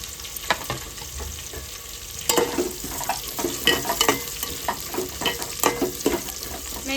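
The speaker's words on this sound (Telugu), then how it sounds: "ఆ తర్వాత అయితే కొద్దిగా క్యారెట్ వేసేసుకుందాం." Carrots frying in hot oil for bagara rice sizzle steadily, with frequent scrapes and clinks of a spoon stirring them in the pan, close and alone without talk.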